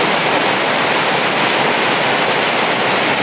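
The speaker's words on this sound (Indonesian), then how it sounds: "Hujannya cukup deras sekali ya." Heavy rain pouring down in a pine forest, a dense, loud and constant hiss with no breaks and no voices.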